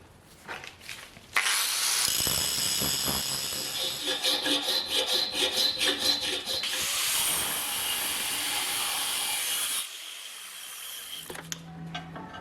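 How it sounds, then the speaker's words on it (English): A hand file works a piece of flat bar steel down to size while a body hammer is being made. Its rasping strokes come close and repeated, with a rhythmic run of back-and-forth passes in the middle before they stop. "I'm just making them out of a bit of flat bar and grinding them and filing them to size"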